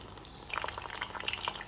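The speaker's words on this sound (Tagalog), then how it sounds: "Lagyan natin ng tubig." Water is poured into a pan while bitsu-bitsu cooks, a soft splashing trickle starting abruptly after a brief quiet and continuing faint and close until the end.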